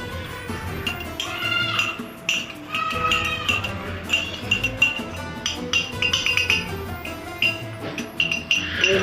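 A spoon stirs cornflour into water, giving repeated light, irregular clinks against the container, close up over soft kitchen background noise.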